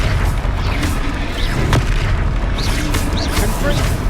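Confringo spell explosions in Hogwarts Legacy combat: dense, loud booming blasts and crackling bursts run continuously, with voices blended into the din.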